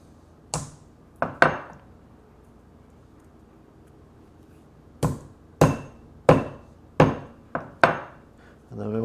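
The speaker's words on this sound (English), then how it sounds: "To take the seeds out of the cardamom pods and put those into the pestle and mortar as well." Cardamom seeds crushed in a pestle and mortar while making mango chutney: a series of sharp, close knocks and grinding strikes, three early hits then a steady run of about six more after a pause.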